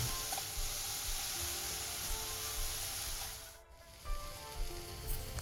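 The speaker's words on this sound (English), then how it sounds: "Cook the pears to 2 to 3 minutes or until caramelization occurs" Pears dusted with white sugar and nutmeg sizzle and hiss steadily in a hot pan as they caramelize, with a brief lull and a few louder stirring scrapes near the end.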